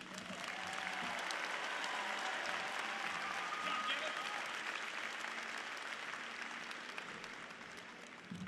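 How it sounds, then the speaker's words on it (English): Sustained applause from a large crowd at a high school graduation ceremony, steady and loud throughout, slowly thinning toward the end. "Lauren, let's give them one more round of applause for what they just did."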